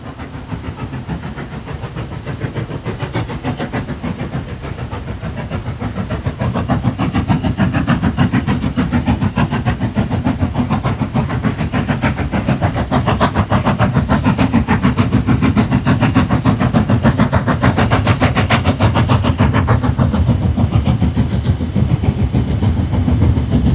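Steam locomotive 841 on the North Yorkshire Moors Railway climbing a gradient, a loud, close, rapid chuffing exhaust pulsing steadily over a low rumble, gradually growing stronger throughout.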